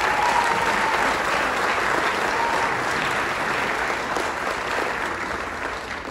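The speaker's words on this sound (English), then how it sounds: "So please give them a big round of applause." An audience claps steadily in sustained applause at a high school holiday wind symphony concert, gradually fading toward the end.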